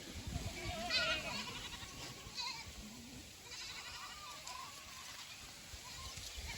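A herd of goats bleats faintly in the distance, with a few wavering calls scattered over an open outdoor background.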